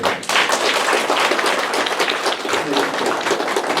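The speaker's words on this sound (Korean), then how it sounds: "박수 한번 쳐주시겠어요?" Audience at a town hall meeting in Bugang-myeon, Sejong, breaks into dense, steady applause, many hands clapping close and loud throughout with a lively, sustained texture.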